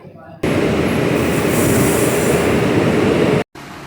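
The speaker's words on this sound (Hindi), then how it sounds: "अभी मेट्रो भी आ गई है" A metro train pulls into a station with a loud, dense rumble of wheels and carriages that swells in suddenly, holds steady for about three seconds, then cuts away.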